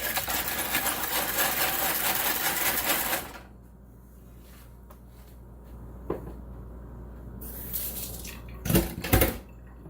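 Eggs are beaten quickly for an omelette, a steady rapid whirring and rattling for about three seconds, then quieter room sound broken by a few sharp clinks near the end.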